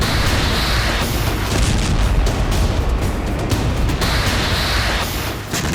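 Explosions from the Ukrainian attack on the Russian naval base in Sevastopol in September 2023 make a loud, continuous rumbling roar with heavy booming surges throughout and no voices.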